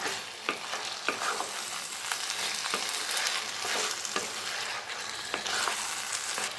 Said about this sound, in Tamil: சிக்கன் சேர்த்துட்டு நல்லா மிக்ஸ் பண்ணிப்போம்.